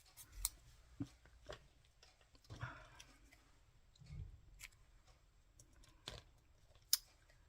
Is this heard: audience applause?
no